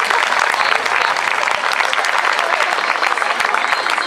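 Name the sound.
audience applause at a fashion show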